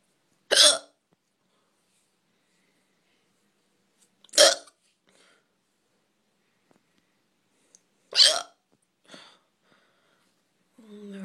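Repeated hiccups from one person, three sharp, loud bursts spaced about four seconds apart with near silence between, and a faint softer catch trailing the last.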